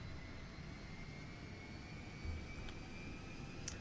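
The TAV 37 Valkyrie shuttle from Avatar, flown in GTA 5, roars with a steady jet-engine drone and a faint rising whine, a continuous engine noise.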